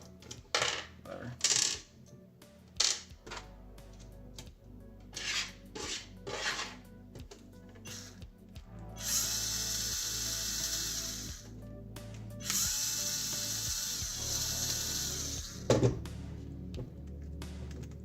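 Screws being removed from a hexapod robot: a run of small metallic clicks, taps and clatters close by, broken by two longer hissing, rattling stretches in the middle, with no one speaking.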